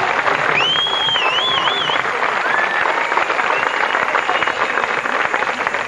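Audience at a Baha'i conference in Greenlake, Wisconsin applauding the Chicago Youth Workshop, a steady, loud wash of clapping from a large crowd with a whistle rising above it early on.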